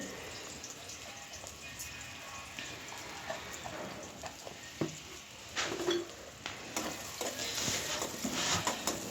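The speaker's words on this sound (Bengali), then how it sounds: "পেঁয়াজ মরিচ মশলাটা ভালো করে ভেজে নেব" Onion, chili and whole spices such as cardamom, cloves, cinnamon and black pepper fry in a pan with a soft, steady sizzle. Intermittent scrapes and taps of stirring rise toward the end.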